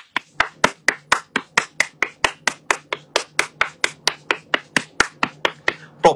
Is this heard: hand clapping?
yes